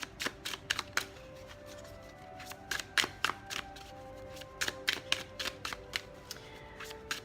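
Tarot cards being shuffled in quick irregular bursts of crisp riffling and slapping, close and fairly quiet, with no talking.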